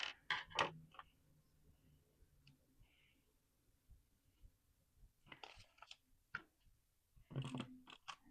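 Scissors cut down the center of a paper vision board, a few crisp snipping and crunching bursts at the start and again later, close but quiet with pauses between.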